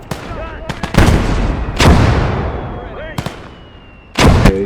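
Artillery fire in the World War II strategy game Call to Arms: Gates of Hell, several loud booming shots and blasts at uneven intervals, with the tail of each rolling off between them.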